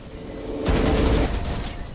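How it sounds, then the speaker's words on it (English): A Killjoy swarm grenade goes off in Valorant, a sudden dense rattle of rapid small blasts lasting about half a second, loud and close. "Swarm grenade out."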